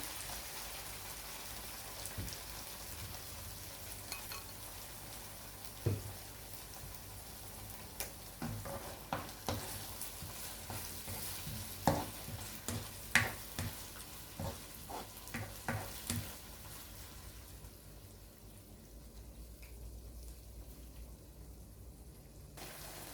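Onions and a stirred-in mixture fry and brown in a pan, a steady soft sizzle broken by scattered crackles and light clicks of stirring, with the sizzle fading quieter toward the end.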